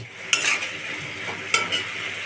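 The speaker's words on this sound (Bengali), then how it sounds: "এখন মশলাটা ভালোভাবে কষিয়ে নিব।" Spice masala with tomato frying in a pan for a pointed gourd curry, a continuous sizzle with two crisp spatula strikes against the pan, close and alone.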